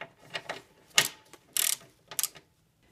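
Two 10 mm bolts being tightened on the hood latch of a Mercedes-Benz W163 ML320, heard as a series of short metallic ratchet clicks and clanks in irregular bursts, close and fairly quiet, with no talking.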